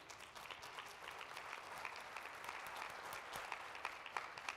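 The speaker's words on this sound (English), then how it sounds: "we can give them a round of applause" A conference audience at a computer science education event applauds state supervisors, a soft, distant, continuous patter of many hands sustained throughout.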